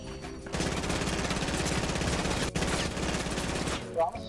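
Rapid sustained automatic gunfire sprays in a video game, dense continuous bursts after a brief lead-in, loud and close, then cutting off near the end.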